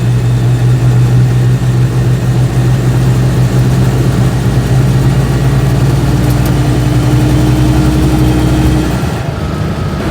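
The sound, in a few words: Invacar engine loud inside cabin while driving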